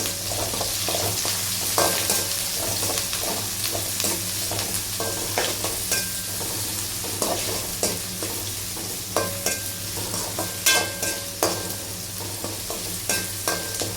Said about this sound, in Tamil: வெங்காயமும் கருகட்டிலும் போட்டு நல்லா வந்து உங்களுக்கு பொன்னிறமாக வர வரைக்கும் நல்லா வந்து ஃப்ரை பண்ணிக்கணும்